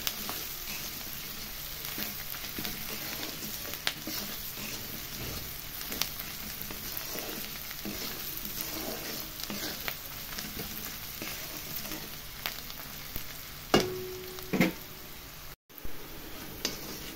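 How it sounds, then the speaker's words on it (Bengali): Onions fry crisp in a pan for a lentil soup, giving a steady close sizzle and crackle with occasional louder pops and a brief clatter near the end. "এরকম বেরেস্তার মতো ভেজে নিয়েছি"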